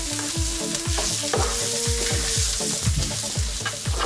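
Chopped onion frying in a pan gives a steady close sizzle, punctuated by a quick series of rhythmic stirring knocks and scrapes.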